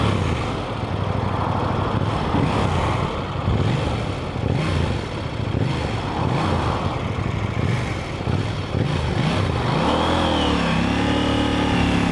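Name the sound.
motorcycle engine revving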